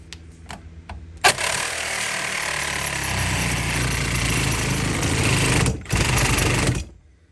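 A power cutting tool slices down through the metal chassis around an epoxy-coated automotive component clamped in a vise on a workbench, a loud, steady harsh grinding roar lasting several seconds, with a brief dip near the end before it resumes and stops.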